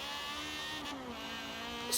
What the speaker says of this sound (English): The thing about this engine is it just revs so high.